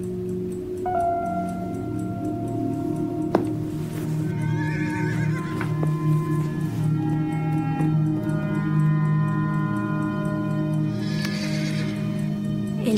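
A horse whinnies in repeated drawn-out calls while hooves clop and shuffle nearby, with occasional sharp knocks and rustling close up.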